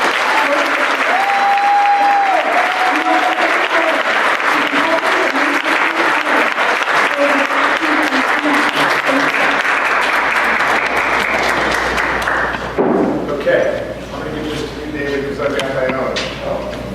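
Town hall audience applauding as a U.S. House of Representatives speaker is introduced: loud, dense clapping sustained for about twelve seconds, with a few voices mixed in, then thinning out as it fades.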